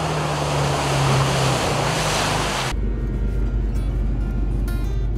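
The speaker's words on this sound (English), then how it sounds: "You know I gotta hit that puddle" An off-road vehicle in four-wheel drive with locked hubs ploughs through a puddle, a loud rushing wash of water and splash that cuts abruptly into a low engine rumble with rattling.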